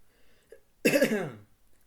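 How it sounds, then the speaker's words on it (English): A single harsh cough bursts out close up after near silence, then fades quickly. "Excuse me about me coughing. I don't like when I cough like that."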